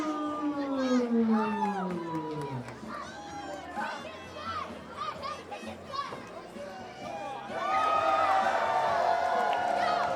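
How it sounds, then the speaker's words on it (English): Excited crowd at a local professional wrestling show, with high children's voices shouting and screaming, cheering that ebbs and then rises again toward the end. "The crowd is pumped for this man."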